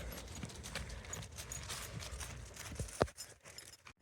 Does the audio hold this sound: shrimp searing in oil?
no